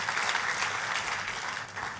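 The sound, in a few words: congregation applause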